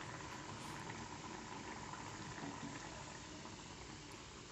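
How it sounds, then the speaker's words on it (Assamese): Fish curry with nalteng bubbles in a pot on a gas stove, giving a steady, dense simmering hiss that runs unbroken throughout with no voices. "এয়া মোৰ উতলিছে মাছখিনি"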